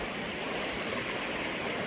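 Water of Stanley Creek rushes along its bed in the Rich Mountain Wilderness, a steady close hiss of flowing stream that holds constant and uninterrupted, with no talk.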